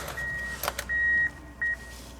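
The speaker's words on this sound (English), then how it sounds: "That noise you hear in the background are the cat tracks, the plowing machines" Snowcat snow groomers working on a slope, a distant droning engine rumble in the background with a steady high whine and a couple of brief swells, faint and alone.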